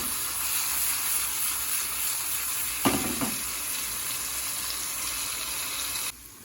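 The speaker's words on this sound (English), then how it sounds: "So the mushrooms have been cooking at about medium" Mushrooms frying in a pan at medium heat, a steady soft crackling sizzle with one brief burst of stirring or scraping midway, fairly close and quiet, no talk.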